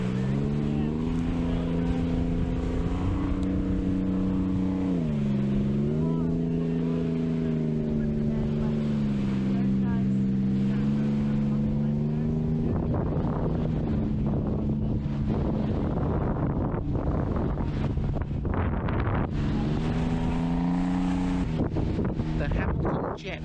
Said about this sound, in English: Got the jet boat.